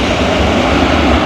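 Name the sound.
airliner with CFM engines landing at Heathrow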